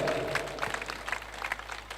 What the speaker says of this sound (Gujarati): તાળીઓથી વધાવીએ દાતા પરિવારને અને તમામ દીકરીઓને